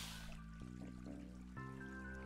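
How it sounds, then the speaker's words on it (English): A low, gurgling human stomach growl rumbles in drawn-out shifting tones, faint and close, with no talking. "That was my stomach."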